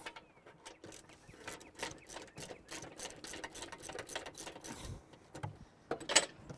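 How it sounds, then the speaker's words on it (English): Rear bolts behind the gas tank of a lawnmower being loosened with a ratchet wrench, a fast, close run of clicking strokes in bursts with brief pauses, ending in a sharper metallic clink, no talking. "All right, that gives us access to the 2 bolts back here, which we're gonna take off."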